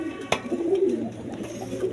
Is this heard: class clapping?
no